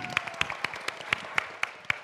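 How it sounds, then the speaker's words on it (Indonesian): Sparse, scattered hand claps for the white team, a women's team, at an Indonesian quiz on West Java knowledge: a handful of sharp individual claps in an uneven rhythm, fairly quiet, with a faint tone in the room. "Tepuk tangan untuk Tim Putih."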